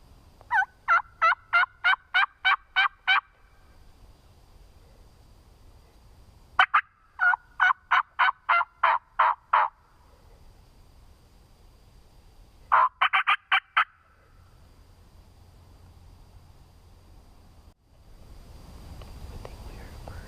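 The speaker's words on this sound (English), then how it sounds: "We think we're hearing a bird over here to our right, gobbling." Wild turkey gobbling on Tennessee public land during a spring hunt, three loud bursts of rapid rattling gobbles from a bird off to one side, separated by quiet pauses with faint background noise.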